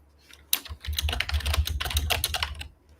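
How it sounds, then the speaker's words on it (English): Hard, rapid typing on a computer keyboard, loud and close, a dense flurry of heavy keystrokes after a short quiet start, with no talking. "you're hammering something fierce on the keyboard"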